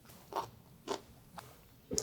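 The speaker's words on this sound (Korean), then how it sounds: "아주 아삭아삭하고" Crisp, crunchy bites into raw garlic scapes, four separate snaps spaced about half a second apart, close-up and quiet with no talking.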